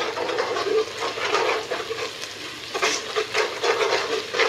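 Punjabi dum aloo sizzles and fries in a pot on a stove over low-medium flame, with close, steady crackling and intermittent stirring scrapes, no talking.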